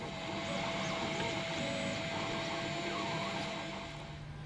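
A 3D bioprinter printing cells in a lab, giving a steady, even mechanical whir with a faint constant tone throughout and no talking.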